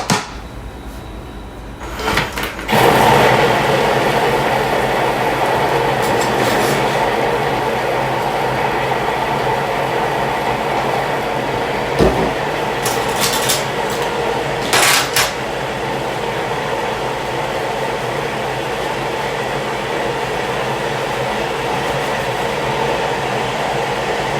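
A Thermomix TM7 runs steadily at speed 4, mixing potato pancake batter with a loud, continuous whirring drone that holds for about twenty seconds, with a few brief knocks near the start.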